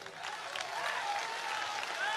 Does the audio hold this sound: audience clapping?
yes